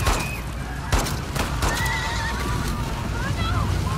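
A horse whinnies and neighs several times in a scene from The Last of Us Part II on PS4, with clopping hooves and sharp impacts mixed in.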